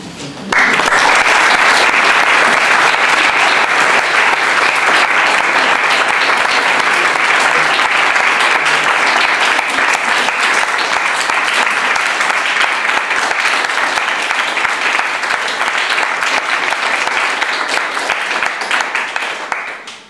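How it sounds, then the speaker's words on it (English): Conference audience clapping in a hall, a sustained dense wash of many hands that swells quickly, holds loud and steady for around twenty seconds, then cuts off. "I'm a little frightened when I get an applause before I start."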